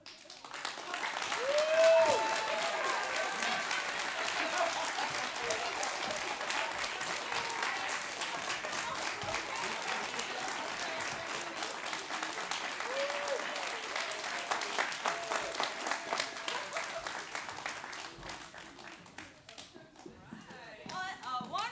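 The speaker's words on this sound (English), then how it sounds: "round of applause for everyone again" After a staged reading at a summer playwriting workshop, the audience breaks into long, even applause with a brief whoop early on. The clapping holds steady for about twenty seconds, then thins slightly toward the end.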